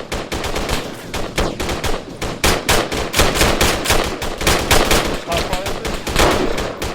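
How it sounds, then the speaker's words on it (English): Rapid machine gun bursts crackle loudly and almost continuously during squad training, dense rattling volleys with short gaps between them and occasional shouted voices mixed in. "There's a gunner shooting at us."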